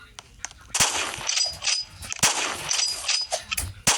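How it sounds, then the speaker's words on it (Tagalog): Sniper rifle fire in a Roblox first-person shooter game: several sharp game gunshots ringing out over busy background game noise, with clicks and metallic chimes in between. "Yun, bago tayong sniper. Equip natin."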